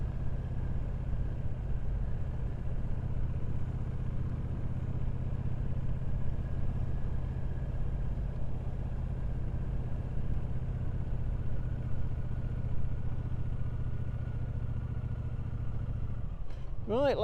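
A 2024 Triumph Speedmaster 1200 cruises steadily in third gear at about 30 mph and 2,000 rpm, a constant low engine drone mixed with wind rush, nearly unchanged throughout.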